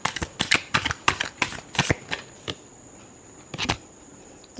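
Tarot cards are shuffled by hand at close range, a quick run of crisp riffling bursts, then a pause and a couple of final snaps.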